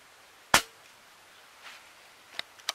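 A BSA R-10 MK2 air rifle fires a test shot: a single sharp, close snap, then a short lull and a few faint clicks and handling knocks.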